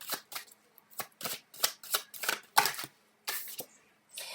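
Tarot cards are shuffled and drawn nearby, a rapid series of crisp riffling flicks and slaps in uneven bursts with short gaps, heard clearly without talk.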